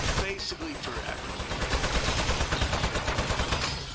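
A turret in Aperture Desk Job fires rapid, continuous automatic bursts, a dense rattling stream of shots that carries on steadily at moderate loudness.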